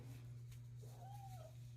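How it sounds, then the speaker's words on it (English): An indoor cat gives one faint, drawn-out meow that rises and falls over a steady low electrical hum, with no voices. "I don't know if you could hear him, but he was kind of meowing."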